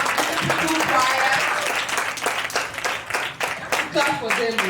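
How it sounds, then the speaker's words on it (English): A church audience claps for a choir at a holiday carol event, dense sustained applause filling the space, close and loud, with voices talking and calling out over it. "Clap for them."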